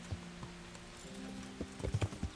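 A horse in the medieval video game Kingdom Come: Deliverance clip-clops with a few soft, irregular hoof thuds, quiet and close, ending in a quicker cluster of steps.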